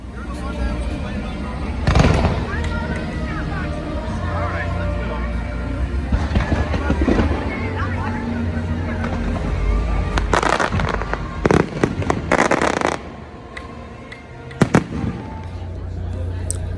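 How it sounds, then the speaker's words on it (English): Fireworks from a fireworks show at Disney World pop and crackle in the background with scattered bangs and bursts, amid crowd noise and people talking nearby. "You can also hear fireworks in the background because there was a fireworks show going on."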